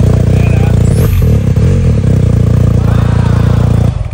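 A 2022 BMW R 1250 GS Rallye motorcycle engine fires up and runs loud and close with a steady throbbing idle, some clatter over it, before cutting off near the end.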